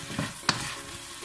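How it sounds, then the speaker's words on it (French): Onions sautéing in a pan, a soft steady sizzle with a couple of brief stirring scrapes, close and quiet. "Je vais revenir un peu les oignons."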